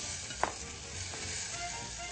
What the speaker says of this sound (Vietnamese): Cô sẽ trút hết cái phần tôm này vào và đảo đều.